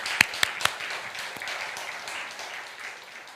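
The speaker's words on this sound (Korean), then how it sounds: "그 하나님께 영광의 박수를 올립니다." A church congregation claps in a steady, dense wash of applause across a large room, with a few sharp, louder claps near the start standing out from the crowd.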